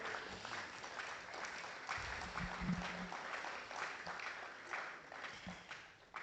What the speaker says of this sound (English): Another round of applause for Ambassador DK